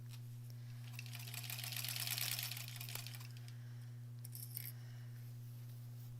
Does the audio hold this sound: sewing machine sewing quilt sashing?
yes